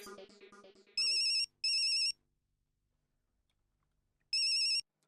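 An electronic ringtone sounds in three bursts, two close together and one after a pause, following a brief stretch of background music and then near silence.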